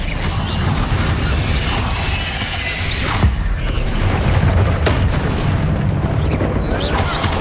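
A Bombardo blasting spell explodes in the video game Hogwarts Legacy, a loud booming blast within a dense, continuous rumble of in-game combat effects, with sharp crashes breaking through along the way.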